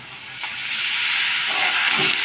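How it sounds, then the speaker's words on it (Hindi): Masala spices frying in oil in a pan, a broad close hiss and sizzle that swells slightly and holds steady, with faint stirring and no speech. "मसाले को तेल छोड़ने तक पकाएंगे।"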